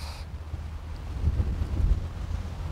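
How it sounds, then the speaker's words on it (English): Wind rumbles and buffets against the microphone in low gusts on a golf course in Tenerife, steady and close, with no voices. "One windy course, all this. It is windy."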